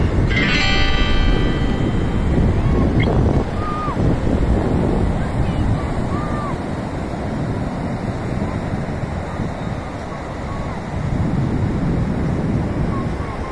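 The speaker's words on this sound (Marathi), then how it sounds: "कशा बघा, लाटावर लाटा पाठोपाठ एकामागून एक, लाटावर लाटा।" Ocean waves at high tide on Tarkarli beach on a hot afternoon, surf rolling in and breaking one after another in a loud continuous wash, with wind buffeting the microphone and brief talk near the start.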